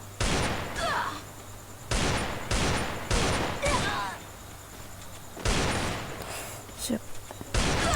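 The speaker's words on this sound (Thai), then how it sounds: "โอ้โหยิงหัวเลย" Gunfire in the Free Fire video game comes in sharp loud bursts of shots separated by short gaps, with a voice talking between and over some of the volleys.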